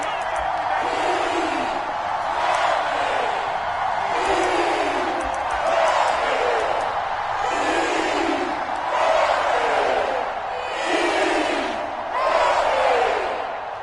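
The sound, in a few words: stadium crowd cheering in an EA Sports football video game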